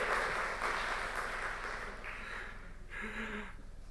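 An audience claps at a groundbreaking ceremony for the Wichita Mid-Continent Airport terminal, a dense burst of applause that thins out toward the end as a voice starts to come through.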